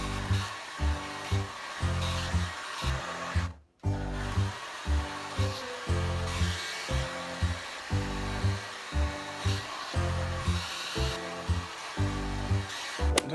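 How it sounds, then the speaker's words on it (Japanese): A hair dryer blows on hair during hair styling, a steady close whoosh with a rhythmic pulsing pattern and one brief dropout, with no talking. "このドライヤーをブーってやった後に熱くな、髪の毛が熱くなるんですよ"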